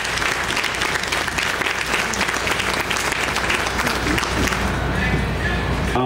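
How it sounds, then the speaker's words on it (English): An audience at a mentalist's stage show claps steadily and loudly throughout, a dense continuous wash of applause with a few faint voices mixed in. "Let's give my friend a big round of applause out in the audience."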